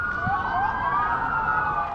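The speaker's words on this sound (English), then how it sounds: "Sirens blared through the streets of Las Vegas" Several emergency vehicle sirens wail at once on the streets of Las Vegas during a police response to a shooting, their overlapping tones rising and falling steadily at a moderate distance.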